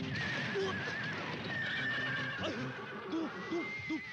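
Eiffel, a beloved horse in the Voltes V anime, whinnies in repeated rising-and-falling neighs, with clip-clopping hooves and other soundtrack noise around it.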